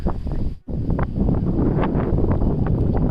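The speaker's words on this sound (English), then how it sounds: "The wind is more, guys." Strong outdoor wind buffets the microphone in steady, loud rumbling gusts near a university campus in Middlesbrough, UK, with a brief dropout early on before the roar resumes throughout.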